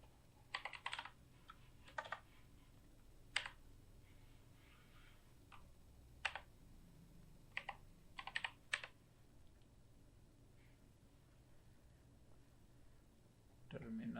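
Bursts of computer keyboard typing in short clustered runs with pauses between, close and fairly quiet over a low steady room hum, while writing a first C++ program; no voices.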